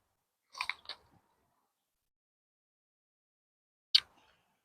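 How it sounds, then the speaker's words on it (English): Someone takes a few close, crisp bites of a freshly harvested raw garden vegetable, a short cluster of crunchy chewing, then a long silence before one more sharp crunch. "Of course, I'm going to take a bite."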